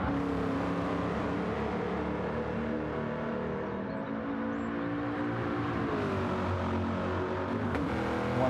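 A Ford GT race car engine in Gran Turismo 7 drones at high revs, a steady whining roar that shifts pitch slightly as it accelerates, with no talking.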